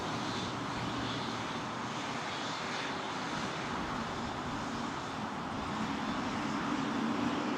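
Airbus A380 airliner at Toronto Pearson airport, a steady broad roar of jet engines filling the whole stretch, close and loud, swelling slightly toward the end with no talk over it.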